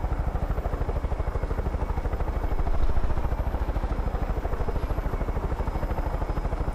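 A helicopter in Far Cry 5 flies steadily with loud, fast rotor thumping under a constant engine whine, swelling briefly midway, with no talk over it.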